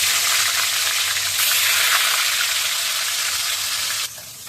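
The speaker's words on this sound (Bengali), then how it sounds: "তেলটা যখন গরম হয়ে গেছে এবার মাছগুলো ভেজে নেবো" Whole koi fish frying in hot oil, a loud steady crackling sizzle that fills the clip and drops slightly near the end.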